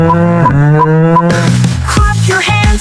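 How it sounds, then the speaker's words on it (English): A cow lowing in long, low harmonic moos, set over a bouncy children's nursery tune that plays steadily beneath it. "Cows moo, calm and low, gentle and kind wherever she goes."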